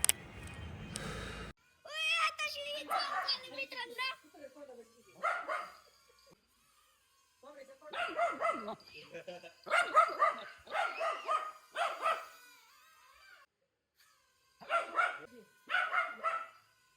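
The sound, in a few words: dog barking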